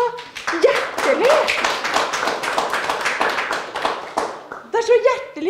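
Hands clap in a steady run of sharp, fairly quick claps through most of the stretch, with a few vocal exclamations and sung or spoken voices rising over them near the start and end.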